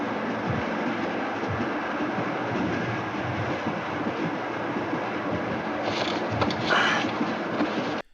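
A train running on rails during a heist scene in the 1963 French film Symphony for a Massacre, heard as a continuous rolling rumble with rail clatter that stops abruptly at the end.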